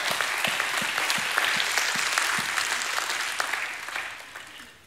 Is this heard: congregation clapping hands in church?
yes